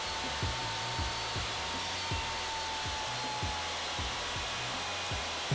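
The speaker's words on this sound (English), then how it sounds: "I used a combination of a dado stack and a miter gauge with a sacrificial flanks." Table saw fitted with a dado stack steadily whines as a miter gauge with a sacrificial fence feeds wooden kitchen teacup shelves through to cut divider notches, with a regular series of low thumps beneath the constant drone.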